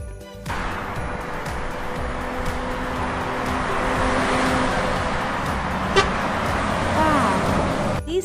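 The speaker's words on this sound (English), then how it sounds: "This is a car." Car horn honking amid road traffic, a steady close engine and traffic roar with a sharp horn toot near the middle, heard alone without talk.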